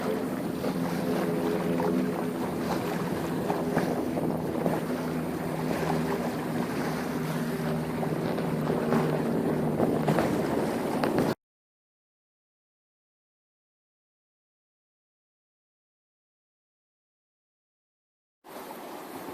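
A Bavaria 30 cruiser sailboat moves under sail in light wind at sea, with a steady wash of water and wind noise around the hull, then a long silent gap before the sound briefly returns.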